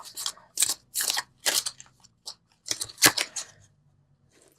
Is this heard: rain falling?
no